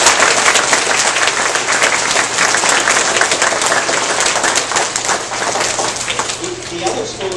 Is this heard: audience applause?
yes